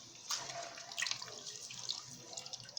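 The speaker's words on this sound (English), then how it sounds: "This is hot water." Hot water poured while preparing palm nut soup, a faint, close, bubbling splash with small irregular splatters and trickles throughout.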